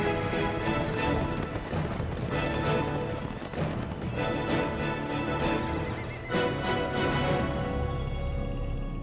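A horse whinnies over the steady thud of running hooves. The sound is loud and dense and sits under a layered documentary soundtrack.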